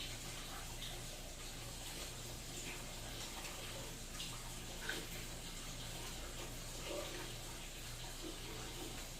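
Steady, hissing rush of weak-flowing water pouring continuously from a tap into a sink, fairly faint and unbroken for the whole stretch, with no voices.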